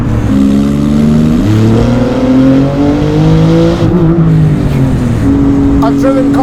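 A Porsche GT2 RS tuned past 1000 hp accelerates hard on German roads, its engine note climbing in long rising sweeps between gear changes, loud and close throughout, with a voice talking over it.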